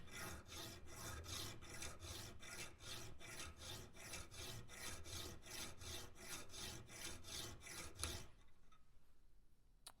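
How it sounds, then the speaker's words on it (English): A knife blank's metal back rubbed back and forth on a file clamped in a vise, about twenty steady rasping strokes, loud and close, stopping near the end with a quiet tail. "I'll just put a file in the vise there and give it a few rubs back and forth."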